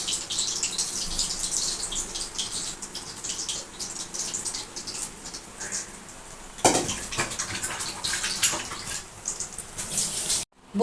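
Lentil vada batter (biulir dal bora) sizzles and crackles in hot frying oil, a steady close hiss with a sharper burst midway and a clatter at the end.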